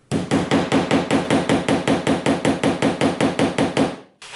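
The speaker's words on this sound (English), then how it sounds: "we're going to hammer down the point of the screw" Rapid, steady hammer blows drive down a screw point while installing cabinet drawer front panels, about twenty strikes in an even rhythm, loud and close, then stop abruptly.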